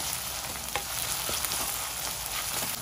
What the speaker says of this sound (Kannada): ಈರುಳ್ಳಿ ಟೊಮೊಟೊ ಎಲ್ಲ ಎಣ್ಣೆಲಿ ಚೆನ್ನಾಗಿ ಫ್ರೈ ಆಗಿದೆ.